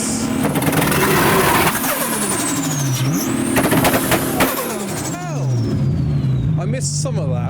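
Several car engines starting and revving at a car meet as cars prepare to leave, loud nearby idling with rising and falling revs, while people talk over the engine noise.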